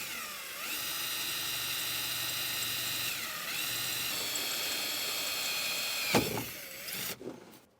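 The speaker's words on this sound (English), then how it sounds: "Now that we have our hole drilled" Power drill boring a hole behind a metal bracket on a 2023 Jeep, a steady high whine that dips briefly in pitch midway, then a sharp clunk and a short burst before it stops.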